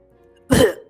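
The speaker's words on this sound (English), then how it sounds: "And then he coughs into a tissue." A single short cough or throat-clearing burst into a tissue, close and fairly loud, lasting about a quarter second after near silence.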